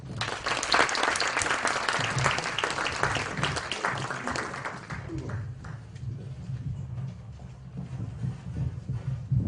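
A church audience at an Easter service applauds warmly, dense clapping at first that thins into scattered claps and a low murmur of voices toward the end.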